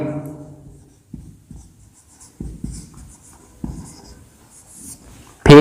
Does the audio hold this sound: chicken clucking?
no